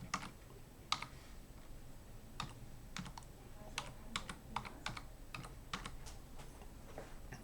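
Fingers typing on a computer keyboard to rename a layer in CAM software: soft, fairly quiet keystroke clicks in irregular clusters, some single taps and quick runs, with no talk.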